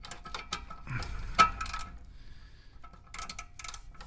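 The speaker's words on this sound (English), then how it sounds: "And with our torque wrench, slide it through without messing up the threads." A torque wrench ratchets in short clicking runs while threading a replacement O2 sensor into a Honda Civic Si exhaust, close and fairly quiet, with small metallic clicks scattered through the clip.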